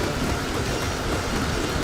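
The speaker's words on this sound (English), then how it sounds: "Every single time I've gone to fight Queen Bee, it's been raining, which is just the worst." Steady rain pours in a survival video game, a dense, even hiss of falling water that fills the whole stretch without pause.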